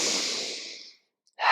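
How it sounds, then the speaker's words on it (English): A deep, exaggerated breath with the chest lifting and shoulders rising, heard close up as a long breathy rush that fades out, then a short silence before the next breath starts sharply. "if you breathe in and the chest is really pushing up towards the ceiling and the shoulders are lifting"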